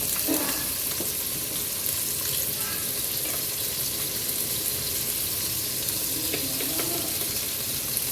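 Onion frying in oil for a rohu fish and potato curry, a steady close sizzle running the whole time with occasional clinks and stirring scrapes, no one speaking.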